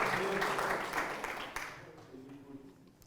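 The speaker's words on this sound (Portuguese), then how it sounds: "Dê um aplauso ao Senhor, meu Deus." A church congregation applauds at a Bible study gathering, a dense burst of clapping that fades over a few seconds, with a voice faintly underneath.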